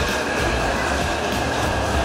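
Steady broadband rumble of a train at a station during a trip to Taipei, Taiwan, a continuous loud rolling roar that holds evenly throughout with no voices.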